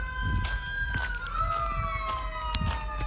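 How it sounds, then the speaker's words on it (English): Police sirens wail outside, several overlapping tones sliding up and down continuously, set back at a moderate distance and mixed with faint background noise. "Holy sirens."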